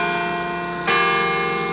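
A large church bell at Carillon Park sustains a rich, ringing tone, and a fresh strike lands midway that brightens and swells the resonance. The sound is loud and continuous, with no voices.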